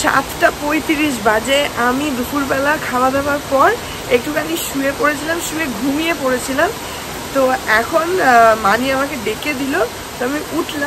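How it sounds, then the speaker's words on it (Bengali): A steady, heavy rush of torrential rain outside during a storm fills the background while a person talks over it throughout. "বাইরে দেখছি মুষলধারে বৃষ্টি পড়ছে"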